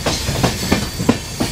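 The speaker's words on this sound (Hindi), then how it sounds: "अपनी दुर्ग हमसफर एक्सप्रेस निकल चुकी है दुर्ग रेलवे स्टेशन से।" Durg Humsafar Express train running on tracks after leaving Durg railway station, steady rhythmic clickety-clack of wheels over rail joints with a rumbling carriage hiss, close and continuous.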